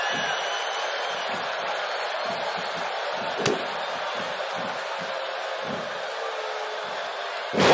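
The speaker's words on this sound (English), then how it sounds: "Wow, what a slam." A wrestling slam in the WWE 2K18 game, a Phoenix crowd roaring and cheering continuously, with sharp thuds and one loud impact cutting through the steady crowd noise.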